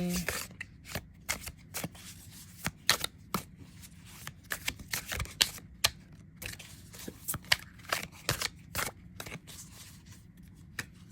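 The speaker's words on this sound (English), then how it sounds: "this one does shuffle nicely" Tarot cards being shuffled over and over, a rapid flurry of crisp riffling snaps and slaps close by, with soft talking in the background.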